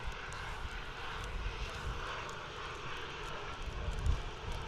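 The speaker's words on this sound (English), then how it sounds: "Ryanair lining up." Ryanair jet lining up on the runway at Manchester Airport in wind and rain, a steady broadband engine roar mixed with wind buffeting the microphone throughout, with no speech.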